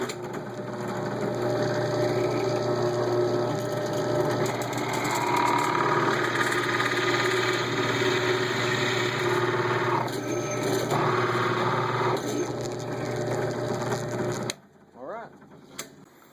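A walnut spindle is turned on a wood lathe between centers and rounded down, producing a sustained loud motor hum with a rough cutting rasp that shifts in pitch, stopping abruptly near the end with faint clatter afterward.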